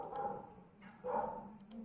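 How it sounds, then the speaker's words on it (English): A pet dog barks and yips excitedly somewhere in the house, two short muffled bursts heard faintly in the background. "My dog's going crazy in the background"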